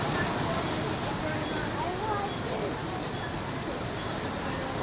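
Steady rain falling over an outdoor dinner in Jamaica, a constant dense hiss of drops on surfaces and umbrellas, loud and uniform throughout with no clear speech.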